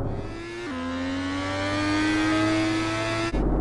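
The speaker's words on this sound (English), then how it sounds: "car has a cool engine sound." A car engine in a video game revs as a steady, sustained drone that rises slightly, with a gear-like step near the start, ending abruptly.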